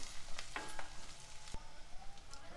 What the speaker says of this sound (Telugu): ఉల్లిపాయలు కొంచెం వేగినాక ఒక మూడు పచ్చిమిరపకాయలు ఇలా సన్నగా కట్ చేసుకొని వేసుకోవాలి ఇవి కూడా కొంచెం వేగనివ్వాలి